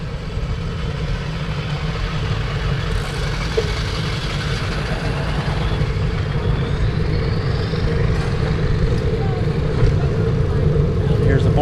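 A truck loaded with conduit rumbles past a roadside construction site, its mid-pitched engine drone steady and close. The noise swells slightly as it nears, over constant wind-like background noise.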